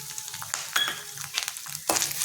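Grated coconut sautéing with spices in a pan, a faint sizzle broken by a few scraping stirs and clatters of a spoon, close and quiet.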